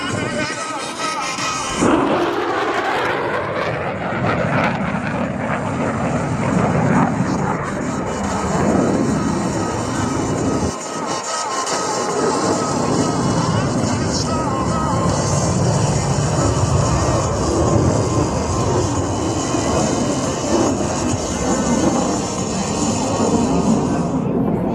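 An F-35A Lightning II fighter jet makes a high-speed pass at the New Orleans airshow, a loud continuous roar of jet engine noise that holds steady across the whole span with no talk over it.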